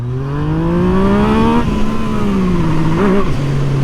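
Yamaha MT-09 motorcycle engine revs hard and pulls through rising gears, loud and close, with a brief dip and a fresh surge near the end.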